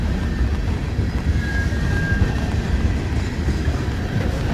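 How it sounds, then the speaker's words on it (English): A long BNSF freight train rolls past in the rain, a loud, steady rumble of wheels and cars with a faint squealing tone, continuous throughout. "With that many engines, I suppose it's going to be a pretty darn long train."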